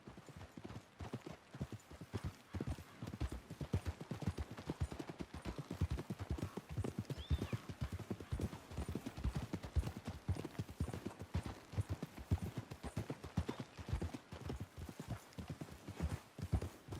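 In the Red Dead Redemption 2 video game, horses' hooves clip-clop in a steady, continuous rhythm at moderate volume throughout, with a brief faint whinny partway through.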